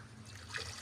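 Water poured into a mango and amra pickle mixture with turmeric and salt, a short, close, steady trickle over low background hum.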